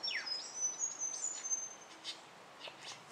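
A wild lyrebird near a log and a large termite mound mimics a person's tapping calls, with faint, high, sweeping whistles and quick chirps repeating at a distance.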